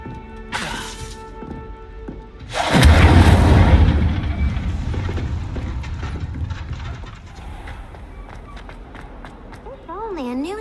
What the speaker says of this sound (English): Incendio. Setting things ablaze is certainly cathartic